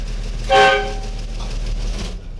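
A loud horn toots once, a short bright blast standing out over a steady low engine rumble, then the rumble continues alone.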